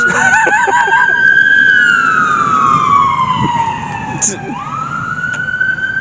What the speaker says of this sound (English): Talking about that, it's an ambulance.